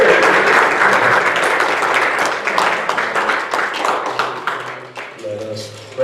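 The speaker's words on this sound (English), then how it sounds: "One more round of applause, John Wilson." Audience applause fills a church hall, steady broadband clapping from a crowd lasting several seconds, fading slightly toward the end with some voices mixed in.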